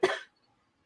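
A single short, close cough bursts out and stops abruptly, followed by near silence.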